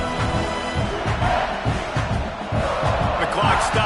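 A stadium crowd in a Madden football video game roars as the defense tries for a stop with two minutes left in the game. The noise is a loud, dense, continuous wash of cheering that swells slightly toward the end.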